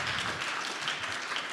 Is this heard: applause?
yes